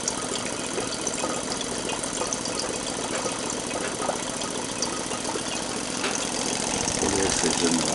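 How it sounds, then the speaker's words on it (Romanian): A hybrid heat-air generator and air pump motor runs steadily, a dense rattling, ratcheting mechanical hum that stays loud and even throughout, growing slightly fuller toward the end. "funcționează, este liniștit motorul"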